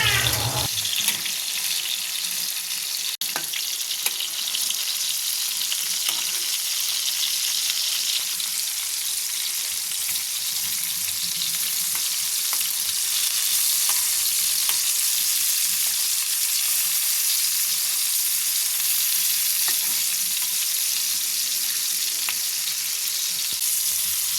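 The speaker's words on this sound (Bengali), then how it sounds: "তেলটা গরম হয়ে আসলে টমেটোগুলো দিয়ে দেব টমেটোগুলোকে উল্টে পাল্টে ভেজে নেব" Tomatoes for a mashed aubergine-and-tomato dish sizzle in hot mustard oil, a loud, steady, close hiss running unbroken throughout.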